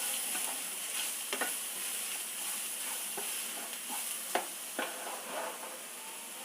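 Grated carrot and cabbage fry in a pan with a steady broadband sizzle, broken by occasional sharp scrapes and clicks as the vegetables are stirred; no one speaks.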